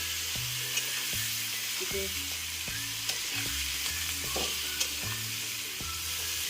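Teasel gourd frying with mustard in a pan, stirred steadily with a utensil: a constant bright sizzle runs throughout, broken by repeated scraping strokes and soft clinks at a moderate pace, close by, with no talking.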